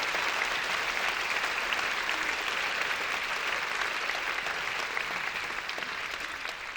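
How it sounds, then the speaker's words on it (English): An audience at a conference applauds in a long, even burst of clapping that fades slightly toward the end. "Give them a round of applause."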